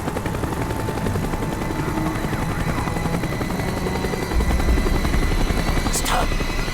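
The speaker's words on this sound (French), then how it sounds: "L'hélico revient par ici." A helicopter in the Call of Duty Black Ops campaign flies nearby with a constant loud rotor thrum and engine drone, growing heavier partway through, with faint game effects over it.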